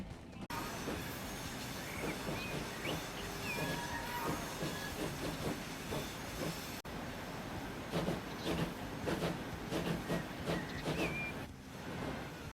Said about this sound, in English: take a look at this train. He is, in fact, struggling to go up this hill.